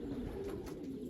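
Racing pigeons coo softly in a loft trap on race day, a low, faint throaty burble repeating across a brief moment with no other sounds.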